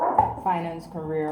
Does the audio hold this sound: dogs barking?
yes